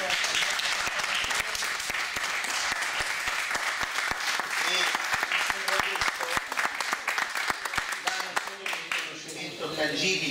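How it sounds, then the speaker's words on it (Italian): Audience applause at a Knights Templar gathering in the Principality of Seborga, a long stretch of crowd clapping with distinct sharp claps standing out and voices murmuring underneath, fading slightly toward the end. "Un applauso."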